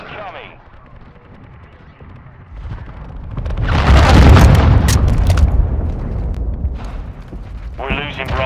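In Call of Duty: Modern Warfare II Ground War, a cruise missile strikes with a heavy booming explosion that swells and rumbles for a few seconds amid scattered gunfire, with brief radio-style voice callouts before and after.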